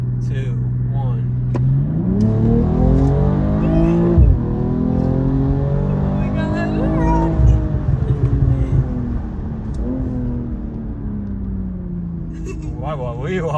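A car accelerates hard on a drive, its engine rising through the gears with a climbing roar, a brief drop at each shift, then settling into a steady cruise while people talk over it.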